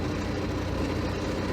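A truck's diesel engine idles steadily in neutral with spring brakes set during an air brake test, a low, even rumble running the whole time up close, with no talk.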